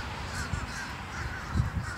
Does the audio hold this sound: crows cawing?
yes